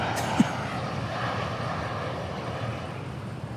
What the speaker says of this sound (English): we get a host of E-175s arriving